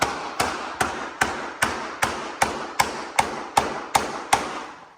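Hammer blows driving down floorboards, about a dozen sharp, evenly spaced strikes at a steady rhythm, close and loud, each with a short ringing decay, no talking.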